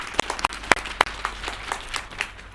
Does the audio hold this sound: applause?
yes